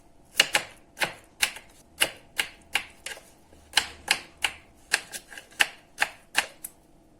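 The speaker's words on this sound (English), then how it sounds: "Cut 4 large potatoes into medium cubes." A knife chops large potatoes into medium cubes on a cutting board, a series of about fifteen crisp, close knocks at a fairly steady rhythm, with no talk.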